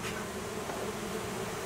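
Honey bee colony living inside the wall of a two-story house, a dense, continuous buzzing hum heard up close and steady throughout, with no talking.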